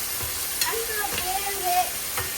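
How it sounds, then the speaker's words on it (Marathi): Garlic-ginger paste sizzles steadily in hot oil while being stirred, with scraping strokes of a spoon cutting through the close, continuous frying hiss; no one speaks. "तेल तापलं की त्यामध्ये वाटलेल्या लसूण अद्रकीचा पेस्ट टाकून तेलात परतून घेऊ"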